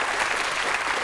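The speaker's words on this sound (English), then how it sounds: "Big round of applause for Graham, please." A studio audience applauds for a Cambridge Footlights performer named Graham, with dense, steady clapping that fills the whole short moment at close range.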